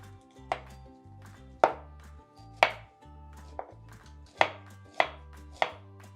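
Knife cutting cauliflower florets away from the root on a board, six or seven crisp, separate chops at irregular intervals, close and clear against a quiet low background hum.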